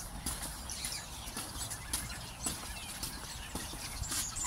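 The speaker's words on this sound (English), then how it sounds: "At least one horse is saying hello to me." Horses at the Irish National Stud during the breeding season, with soft clip-clop hooves and stable movement under a steady outdoor background, close by and moderately loud, with no clear neigh.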